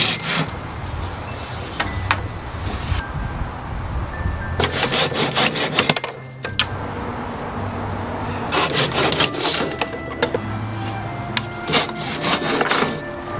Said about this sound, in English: I'm just going to put a 45 degree cut. Yeah, I'm cutting three at a time